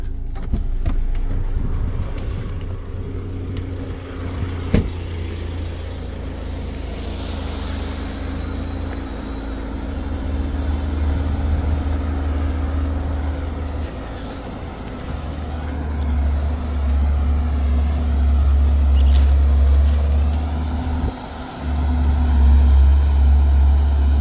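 A FAW J6P-350 dump truck at a quarry site rumbles with a steady, heavy low engine drone that swells louder toward the end, with a brief thump partway through and no talking.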